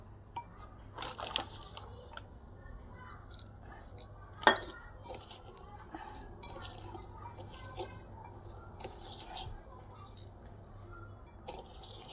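Onion bhaji batter being mixed thick in a bowl with a little water, soft wet squelching and light scraping with a couple of clinks, close and quiet, with faint talking in the background.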